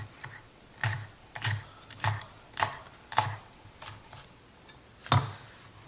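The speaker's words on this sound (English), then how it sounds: "I'm gonna cut this on a bias." A knife slices washed leeks on a bias against a cutting board, with about eight crisp, evenly spaced chops close by and no talking.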